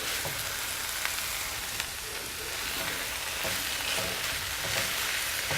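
Bok choy frying in a hot pan, a steady loud sizzle with occasional scraping stirs, continuous throughout with no voices.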